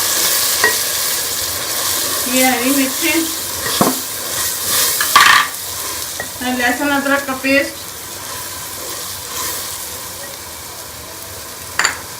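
Onions, tomatoes, garlic-ginger paste, green chillies and spices fry and are stirred in a pan for chicken biryani, with a steady sizzle, scraping stirs and light clinks of a spoon, while someone talks over it.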